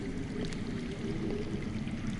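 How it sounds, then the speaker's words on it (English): Underground water flowing in a Game of Thrones adventure game, a steady, rushing wash like a stream or pouring water, continuous and fairly even without pauses, with no talking over it. "I hear water. From underground."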